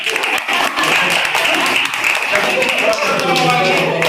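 An audience at a public speech gathering in Mysuru claps in a loud, dense burst of applause that holds steady throughout, with voices mixed in.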